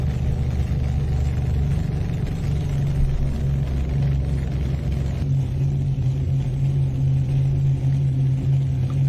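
A tractor pull puller's engine roars steadily at full throttle, a loud, dense and continuous rumble with a slight pitch change about halfway through and no talk over it.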